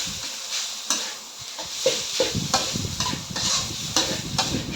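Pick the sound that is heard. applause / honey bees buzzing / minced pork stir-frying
minced pork stir-frying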